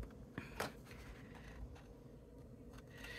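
Scissors cut paper while a swap box is being made: a couple of soft, quiet snips early on over a low steady background hum, no talking.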